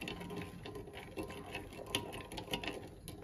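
Soft, irregular scraping and light clinks of a spoon stirring a marshmallow mixture with sugar in a bowl, quiet and close, with no voices.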